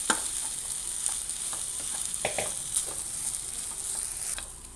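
Cooked basmati rice being stirred and mixed in a hot pan for pepper rice, a soft steady sizzle with light scraping and tapping from the spoon, no talking.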